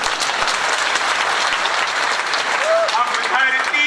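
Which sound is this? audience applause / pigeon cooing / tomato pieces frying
audience applause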